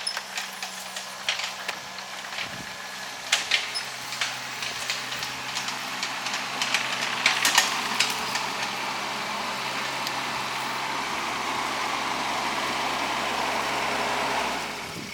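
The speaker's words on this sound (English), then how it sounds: "on the machine right now, clearing the driveway for all the cars" A heavy machine's engine runs steadily while clearing a dirt driveway on raw land, with clanking and scraping mechanical noises early on and a sustained droning hum later, fairly close.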